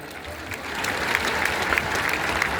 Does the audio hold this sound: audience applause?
yes